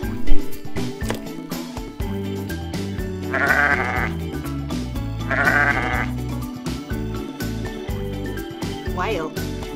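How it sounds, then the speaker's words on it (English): Sheep bleating in two short bursts over a continuous bed of upbeat children's music, the calls standing out briefly at mid-volume before the music carries on. "Sheep."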